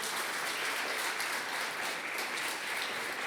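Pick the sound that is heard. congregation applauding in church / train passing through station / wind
congregation applauding in church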